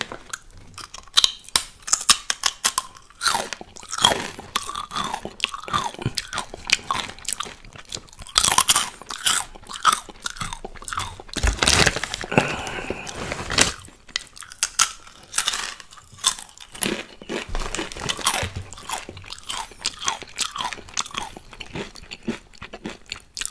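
Crunchy Takis Fuego rolled tortilla chips being bitten and chewed very close to the microphone, a long run of loud, sharp crunches and crackles in irregular bursts with brief pauses and no speech.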